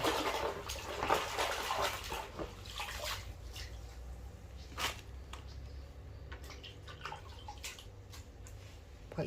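Something is washed clean with water in a kitchen: close splashing, sloshing and squishing with scattered drips, steady and fairly loud, with no speech.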